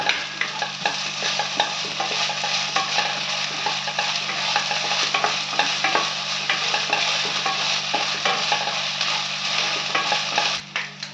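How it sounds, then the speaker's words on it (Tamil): Ginger garlic paste sautéing in a pan for garlic chicken, a steady close sizzle and fry with frequent scraping and stirring strokes throughout, no voices. "இப்போ வந்து இஞ்சி பூண்டு பேஸ்ட் போட்டுக்கோங்க இதையும் கொஞ்சம் நேரம் வதக்குங்க"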